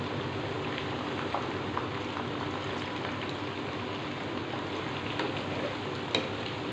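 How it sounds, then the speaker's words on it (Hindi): Chicken frying in oil over medium heat, a constant close hiss and fine crackle like light rain, with a few sharper pops and no voices. "इसे मुसलसल हिलाते रहें और कलर चेंज होने तक इसका इंतज़ार करें और मीडियम हीट पर इसे फ्राई करेंगे।"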